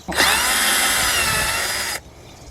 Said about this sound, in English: I'm going to drill a quick pilot hole